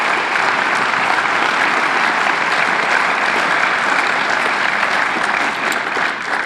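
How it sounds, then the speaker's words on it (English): Sustained audience applause at an evening awards ceremony, a dense steady wash of many hands clapping that stays loud for several seconds without easing. "Ladies and gentlemen, one more round of applause for our"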